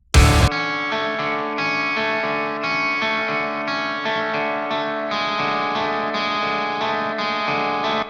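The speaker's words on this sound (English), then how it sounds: "This beautiful lead is the indie distortion on the Will Putney pack." An electric guitar lead played through an indie distortion tone from a Will Putney pack, with sustained, saturated notes shifting in a steady melodic line, wet with chorus and echo and following a brief burst at the start.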